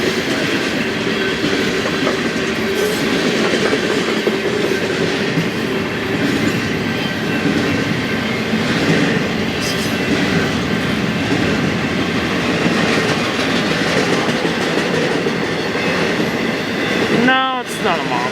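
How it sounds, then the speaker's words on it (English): An intermodal freight train rolls past on the line toward Tehachapi, a steady loud rumble and clatter of wheels and cars, with a brief wheel squeal near the end. "This is our first intermodal of the day."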